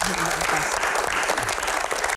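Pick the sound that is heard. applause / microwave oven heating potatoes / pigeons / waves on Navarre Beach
applause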